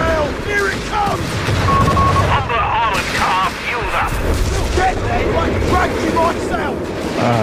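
Loud, dense bombing explosions and gunfire rumble through a Company of Heroes 3 battle, a continuous heavy barrage with overlapping booms, under excited voices and game chatter.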